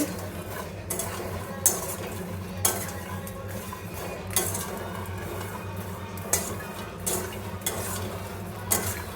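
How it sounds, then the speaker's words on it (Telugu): Makhana (fox nuts) frying in a pan until crisp: a soft continuous sizzle under repeated sharp scrapes and clinks of a utensil against the pan, recurring roughly every second or two. "క్రిస్పీగా వచ్చేంత వరకు ఫ్రై చేసుకోవాలి"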